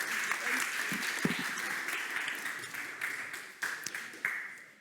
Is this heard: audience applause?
yes